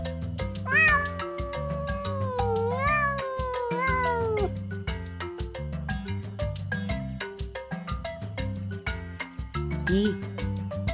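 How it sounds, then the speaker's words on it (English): A cat gives three drawn-out, gliding meows in quick succession near the start, set against a bouncy children's alphabet song that keeps playing throughout. "C for cat."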